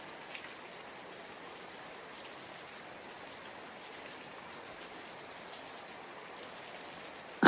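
Steady, even rain falls on surfaces in a constant soft hiss with faint droplet texture. It stays alone and unchanging throughout, with a brief bump right at the end.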